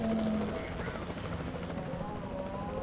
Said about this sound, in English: I have to fly in the helicopter.